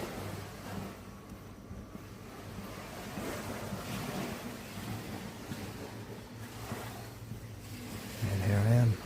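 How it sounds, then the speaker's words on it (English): Small waves lapping on Ko Samet beach in Thailand, soft rolling washes of surf mixed with wind buffeting the microphone, rising slightly louder near the end. "I can hear the little waves."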